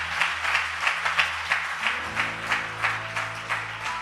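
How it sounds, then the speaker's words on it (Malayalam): A church congregation applauds a boy called up during a pastor's sermon, with steady rhythmic clapping that pulses through the whole stretch, loud and close, without any talk over it. "ഒന്ന് ഇവനൊന്ന് കയ്യടി കൊടുത്തേര്."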